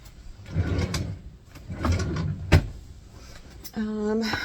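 A clothing drawer handled during a closet declutter, with rustling fabric, a sharp knock and a final sliding rumble near the end, all close by.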